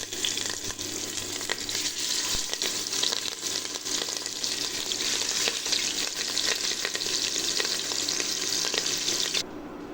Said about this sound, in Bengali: এবার আমি মাছগুলা তেলের মধ্যে আস্তে আস্তে দিয়ে দিই।